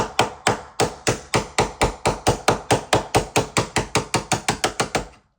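Rapid, steady metallic tapping, about twenty sharp strikes in quick succession, as a screwdriver is hammered against an interior door hinge pin to drive it out; close and loud, with no talk.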